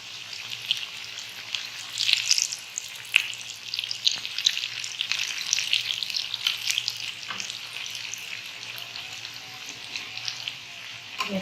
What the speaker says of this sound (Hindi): ये अच्छे से गोल्डन फ्राई हो जाएंगे